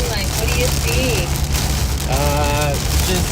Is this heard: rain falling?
yes